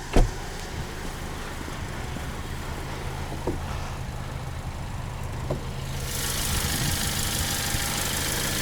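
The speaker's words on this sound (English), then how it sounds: "You can tell the GT line is the turbocharged inline 4." A 2021 Kia Stinger GT-Line's turbocharged inline-four runs at a steady low idle, a continuous mid-low hum with a faint knock near the start and brighter hiss building toward the end.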